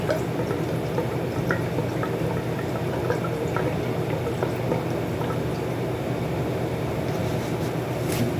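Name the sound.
gasoline being poured into a Kawasaki Vulcan 500 fuel tank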